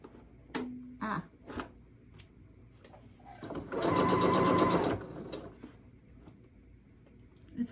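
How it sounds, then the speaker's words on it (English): Home sewing machine stitching fabric in a short fast run of rapid mechanical chatter lasting about a second, framed by quiet handling clicks before and after. "my sewing machine got away from me."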